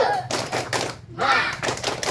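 Schoolchildren in a classroom doing a rhythmic 'tepuk semangat' clap chant, with bursts of group clapping mixed with chanting voices and a brief pause in the middle.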